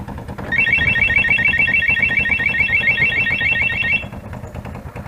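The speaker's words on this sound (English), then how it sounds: "Let's turn that alarm off." A motorcycle alarm sounds on a Ghost X Drift bike, a steady, loud electronic warbling beep pulsing rapidly for about three and a half seconds before cutting off, with engine or road rumble underneath.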